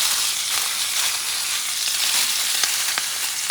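Pork loin sizzling on a hot cast iron griddle under a sheet of aluminum foil, a dense, even, loud frying hiss with small crackles, uninterrupted and close.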